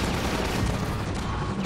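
Weapons firing in the video game Half-Life 2 near a bridge: a dense, loud, continuous clatter of shots and impacts that fills the whole short stretch without pause.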